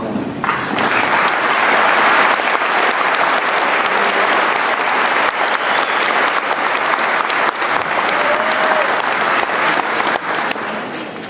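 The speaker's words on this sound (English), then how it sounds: "Will those students please stand up and we can give them a round of applause" A school audience applauds graduating students at a high school graduation ceremony, sustained loud clapping from a large crowd that holds steady for about eleven seconds.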